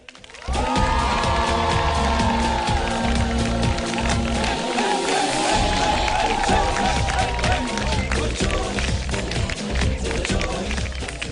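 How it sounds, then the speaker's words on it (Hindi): Studio audience applause and cheering welcoming guest Sahir Lodhi onto a talk show, a sustained loud burst of clapping with music and crowd noise running throughout. "आप लोगों की भरपूर तालियों में तशरीफ ला रहे हैं साहिर लोधी।"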